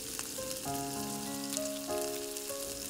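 Ginger and garlic paste sizzles steadily with chopped tomato in a hot pan while being stirred, a close, even frying hiss with faint tonal music underneath.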